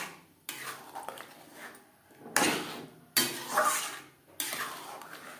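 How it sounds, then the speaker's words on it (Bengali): Kashmiri aloo dum gravy with nuts being stirred in a pan over high to medium flame, several distinct scraping and clanking strokes of a utensil against metal, separated by brief pauses. "হাই টু মিডিয়াম ফ্লেমে 3-4 মিনিট নাড়াচাড়া করে দেব"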